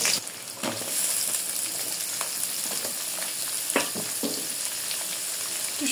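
Potatoes frying in hot oil in a kadai give a steady, close sizzle, broken by a few sharp clinks and scrapes of a stirring spoon.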